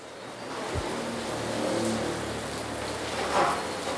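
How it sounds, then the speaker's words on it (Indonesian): Heavy midday rain in Purwodadi, Grobogan, falls as a dense, steady hiss from start to finish, with a faint engine sound beneath it and no voices. "cuaca di Purwodadi Grobogan nih hujan deras siang ini"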